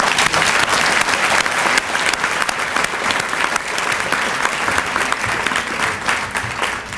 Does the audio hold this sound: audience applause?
yes